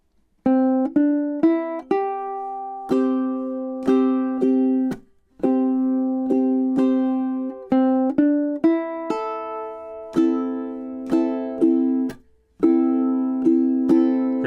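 A solo ukulele plays both verse parts of a song together, a close, bright run of many quick plucked notes and double-stops that flows steadily and pauses briefly twice.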